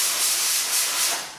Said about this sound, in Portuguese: A ponto de a panela de pressão não aguentar e querer participar na gravação também